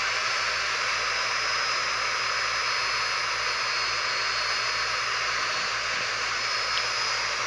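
Steady, loud roar of a military fighter jet engine in the Infinite Flight simulator game, a continuous broadband rush with a high whine running unbroken throughout and no talk.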